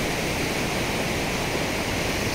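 Water rushes through the gate of the Sengguruh dam as the reservoir is flushed, a steady, dense roar of broadband noise that stays loud and unbroken throughout, with no other sound standing out.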